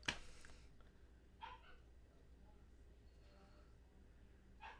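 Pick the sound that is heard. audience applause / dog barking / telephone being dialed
dog barking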